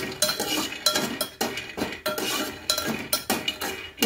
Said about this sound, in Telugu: 2 స్పూన్లు పల్లీలు వేగించుకుంటున్నాము. ఆయిల్ లేకుండా ఉట్టినే వేగించుకోవాలి.